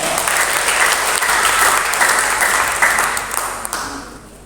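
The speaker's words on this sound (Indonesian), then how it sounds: "Tepuk tangan untuk semuanya." A hall full of people applauds participating teachers at a school foundation gathering, steady dense clapping that holds strongly before gradually tapering off.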